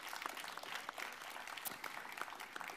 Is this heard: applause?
yes